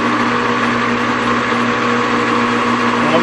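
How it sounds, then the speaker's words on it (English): A metal lathe turns at about 200 RPM with a knurling tool working a breather nut for a vintage Mustang, a loud, steady machine hum with a constant tonal whine throughout. "I'm going to run the knurling tool at about 200 RPM."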